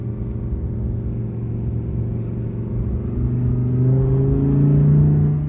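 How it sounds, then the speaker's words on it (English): A first-generation Audi R8 Competition engine in sport mode hums steadily, then revs higher and holds the revs, the tone rising smoothly toward the end. "you can hear it definitely opened up the engine. It's holding the revs a little bit longer now"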